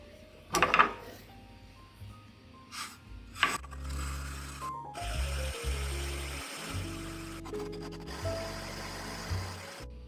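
Cold water agates tumble and grind with grit inside a running lapidary machine, giving a steady low rumble with scattered clacks and rasping scrapes. Several sharper knocks stand out early, then the grinding settles into a continuous drone.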